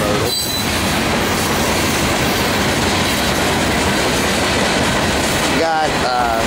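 A Norfolk Southern intermodal freight train rolls past close by, a loud, steady roar of wheels on rail with rhythmic clatter and brief squeals near the end.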